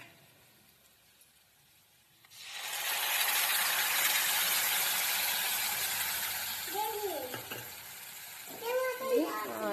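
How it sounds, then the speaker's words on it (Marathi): Spiced yogurt hits fried onions in a pan with a sudden loud, sustained sizzle after a quiet start, easing slightly as stirring scrapes and rattles come through near the end. "कांद्यामध्ये आता आपण ते मिक्स केलेलं दही टाकूया"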